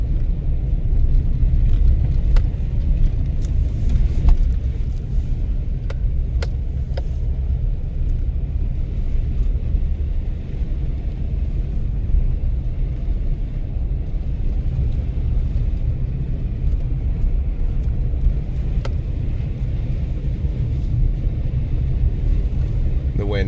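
Heavy, continuous low rumble inside a truck driving through very high winds near the Michigan City lakefront, a loud steady roar of wind and road noise with occasional thumps and rattles.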